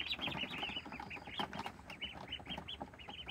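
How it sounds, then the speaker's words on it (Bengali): Seven-day-old Peking ducklings peep in a dense, continuous chorus of high, rapid chirps, close by and fairly quiet, with no voices. "দেখতে পাচ্ছেন পিকিং স্টার হাঁসের বাচ্চা, আজকে বয়স 7 দিন।"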